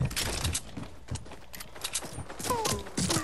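Gunfire in an online shooter game: a scatter of sharp shots and bursts, some nearer and some distant, with a few ricochet-like whistling tones late on, all over a busy game soundscape and movement noise.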